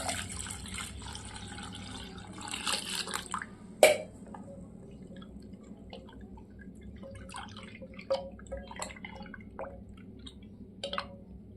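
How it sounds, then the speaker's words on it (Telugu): Water poured into churned yogurt for buttermilk, a soft liquid splash followed by scattered drips and small plops, close by and fairly quiet in a still kitchen. "ఇప్పుడు ఇందులో వాటర్ వేస్తున్నాం."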